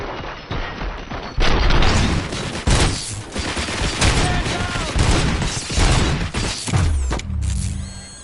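Sustained gunfire in the video game Robocop: Rogue City on PS5, a loud, dense fusillade of rapid shots and booms filling the whole stretch, with voices and mechanical clatter mixed in.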